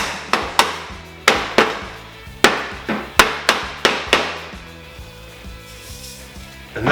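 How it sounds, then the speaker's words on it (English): A hammer taps a baffle and insulation into a shorty muffler on a Yamaha Maxim XJ650 café racer: about a dozen sharp metallic knocks in irregular pairs and runs, close and loud, then a quieter hum. "Tap the hammer."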